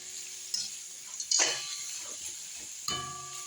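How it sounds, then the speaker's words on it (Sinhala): Air-fried devilled chicken is stirred in a pan with a few scrapes and clinks of a utensil over a faint background sizzle, quiet and close. "මේ වෙලාවේ හොඳට මික්ස් කරගන්න."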